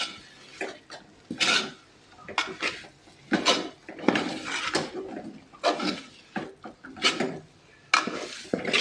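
Pork and boiled plantain being stirred together in a pan: close, repeated scraping and clattering strokes of a spoon against the pan, coming in uneven bursts with no talking.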